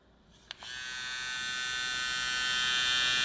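A Stylecraft Flex cordless hair trimmer switches on with a click and settles into a steady high-pitched electric buzz, close and even, with no talking.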